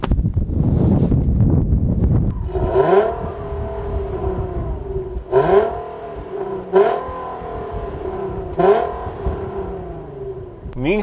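A 2014 Infiniti Q60 and a Buick Regal Turbo accelerate flat out in a 0-60 run, with engine revs climbing in repeated rising sweeps broken by brief gear-change dips, over gusty wind noise and some muffled talk at the start.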